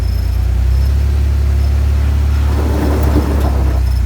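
War Horse IFFC Jeep engine revving hard with a one-wheel peel, a loud, steady low rumble that swells into a rougher burst of spinning tire and engine noise near the end, no talk.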